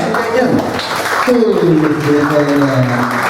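Applause from a stand-up comedy audience for the opening band, a broad crowd wash at the start that carries on faintly beneath someone talking over it.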